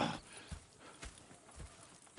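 Horses walk in Red Dead Redemption 2, their hooves clip-clopping in a soft, steady rhythm, faint and somewhat distant, with no voices over them.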